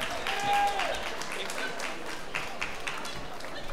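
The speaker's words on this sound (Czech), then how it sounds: "v túto chvíľu veľkým a burácajúcim potleskom privítajte na pódiu" An outdoor summer festival audience in Slovakia welcoming a band on stage with steady, fairly loud applause, an announcer's voice heard at the start.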